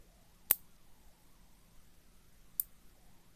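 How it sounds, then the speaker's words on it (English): Scissors snipping off excess beading thread on a beaded penguin, two small sharp clicks about two seconds apart, close and crisp over a quiet room. "And then cut off the excess."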